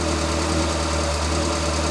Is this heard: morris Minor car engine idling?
yes